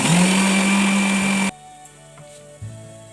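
An electric blender grinds onion, ginger and chili into paste with a loud, steady high whine for about a second and a half, then cuts off abruptly, leaving only faint room sound.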